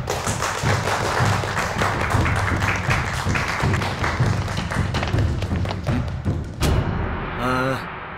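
A crowd applauds to welcome a martial arts team, with dense, steady clapping and thuds lasting several seconds before fading out.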